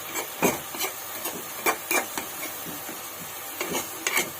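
Drumstick leaves frying in oil in a pan, stirred steadily: close scraping and rasping strokes in an irregular rhythm over a soft sizzle, no talking.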